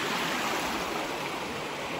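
Flash floodwater rushing through the Appalachian Mountains makes a loud, continuous broadband roar that fills the whole stretch without pause, with no voices over it.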